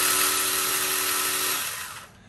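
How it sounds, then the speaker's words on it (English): Ryobi 18V ONE+ 8-inch cordless pruning chainsaw motor whirring loudly at close range with a steady high buzz, then winding down and fading after about a second and a half. "That is the chainsaw functioning."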